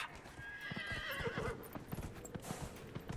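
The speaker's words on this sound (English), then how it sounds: "This horse is slow." Rhythmic horse hoofbeats pound steadily throughout while the horse whinnies partway through, all close and moderately loud within the soundscape of the game Dragon Age: Inquisition.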